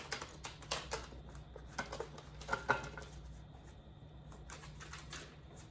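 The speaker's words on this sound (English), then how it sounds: "I'm gonna shuffle the Hermit Tarot again" Tarot cards being shuffled close by, a quick series of soft crisp riffles and taps, trailing off into quiet room noise.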